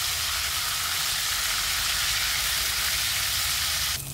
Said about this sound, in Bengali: আমি চিংড়ি মাছগুলো দিয়ে দিচ্ছি, ভেজে নিব